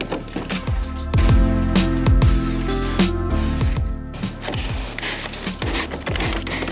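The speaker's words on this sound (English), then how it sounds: "every single one of them clips you need to pop loose, and you can just hear it unclipping" Plastic clips on an Audi S3 8Y grille pop loose under hand tension, sharp snaps and creaks at close range over a steady low engine-bay hum.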